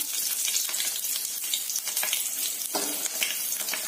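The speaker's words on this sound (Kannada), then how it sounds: "ಈಗ ಹಸಿಮೆಣ್ಸಿನ್ಕಾಯಿನ ಫ್ರೈ ಮಾಡ್ಕೊಳ್ಳೋಣ" Green chillies deep frying in hot oil, a dense, continuous close sizzle and crackle with small popping bursts throughout.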